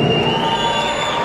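A concert crowd at a fifteenth-anniversary salsa night in Medellín cheers and shouts, a loud sustained roar of voices with a steady musical tone ringing beneath it.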